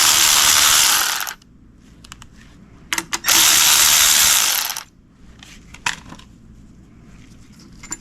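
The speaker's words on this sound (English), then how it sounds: "we're gonna go ahead and remove these two bolts" A ratchet spins hard on bolts holding the EGR tube to the turbo of a 3.0L Sprinter van, loud sustained clicking bursts separated by a pause, then lighter taps and scrapes of tools.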